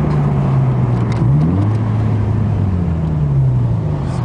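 Mazda Familia with a ZL VE engine revving steadily while driving on an Arizona highway, heard from inside the car as a loud continuous drone with rising and falling pitch across the whole stretch.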